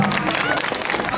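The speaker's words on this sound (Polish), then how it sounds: "To słabe te brawa." Thin applause from an outdoor audience after a preschool children's performance at an Easter fair, a brief patter of scattered clapping.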